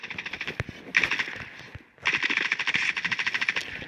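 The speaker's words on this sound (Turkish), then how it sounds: "Birisi bana sıkıyor." Rapid automatic gunfire in the mobile shooter Standoff 2 comes in two close, loud bursts of evenly spaced shots with a short pause between them and no talking.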